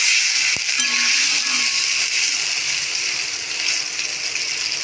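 Water is poured into a pan of red amaranth greens, giving a loud, steady rushing hiss with a brief knock near the start, fading slightly as the flow settles.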